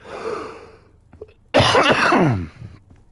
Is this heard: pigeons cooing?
no